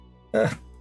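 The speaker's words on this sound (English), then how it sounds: "sorry, just need to cough." A single short, throaty cough bursts out against a faint background hum, lasting under half a second.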